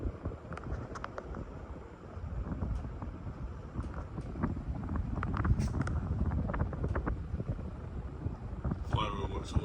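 A Casablanca Panama ceiling fan runs at speed, pushing out a steady, rough rush of air like wind buffeting a microphone, close and continuous, with scattered faint clicks and rattles over it.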